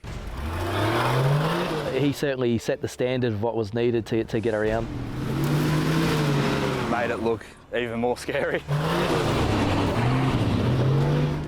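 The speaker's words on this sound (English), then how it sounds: "Then the pace car went through." An off-road 4x4 pace car's engine drones and revs throughout on a course, rising and falling in pitch as it accelerates, with someone talking over it.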